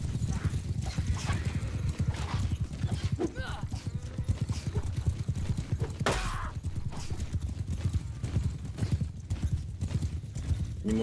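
Horses gallop in the medieval battle game Mount & Blade II: Bannerlord, with rapid, repeated hoofbeats, a whinny and battle noise underneath, while someone talks over the action.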